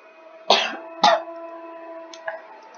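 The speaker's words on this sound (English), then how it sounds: "I don't know why I have such a cough." Two sharp, close coughs in quick succession, followed by a fainter third cough, over a low steady hum, from a person playing Minecraft.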